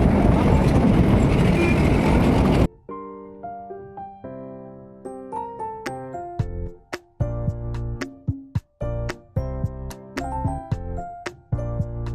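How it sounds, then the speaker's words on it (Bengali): A loud rumbling, clattering toy train ride for a few seconds, then it gives way to music. "এই যে টয় ট্রেন তো টয় ট্রেনটাতে চাপবো আমরা"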